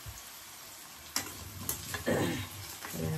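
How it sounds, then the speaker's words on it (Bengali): Potatoes fry in a pan for a chicken curry, giving a low sizzle broken by a few sharp scrapes and clinks of stirring and a louder burst of hissing near the end. "আলুটা আমার মোটামুটি ভাজা হয়ে গেছে"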